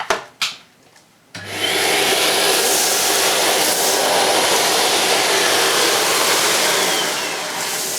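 A Numatic Harry vacuum cleaner, its nozzle tilted back, roars steadily at close range as it sucks up larger bits of debris, after a few brief knocks at the start, and runs on alone with no talk.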